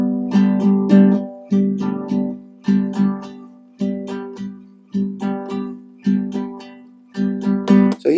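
Guitar strummed in a rhythm exercise pattern with the upstroke left out, giving bursts of chords broken by short gaps, close and fairly loud with no voice.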